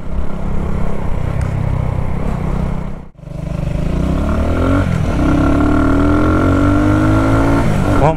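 A Shineray Worker Cross 150 motorcycle engine while riding, loud and close, droning steadily, then cutting out briefly at a gear change before revving back up with rising pitch as it accelerates.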